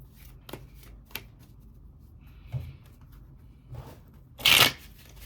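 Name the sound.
shuffling tarot cards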